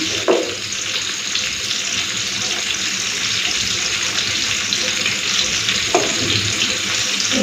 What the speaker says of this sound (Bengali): ছাড়ানোর পর আরও একবার ভালো করে ধুয়ে নেব